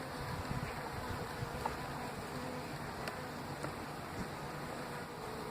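Honey bees buzzing steadily around an open beehive during a July check, a dense, continuous drone close by with no talking.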